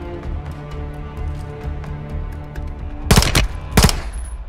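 Call of Duty: Modern Warfare 3 campaign gunfire: two loud, close bursts of shots stand out late over a constant low rumble of battle ambience, with faint distant shots earlier.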